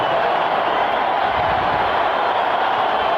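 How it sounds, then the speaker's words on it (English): A dense, steady roar from a stadium crowd at a 2007 Colts at Raiders football game fills the background without a break, broad and sustained like a wash of distant voices. "You hear that crowd in the background"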